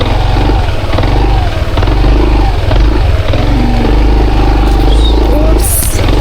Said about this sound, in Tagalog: Nakapasok na po yung motor.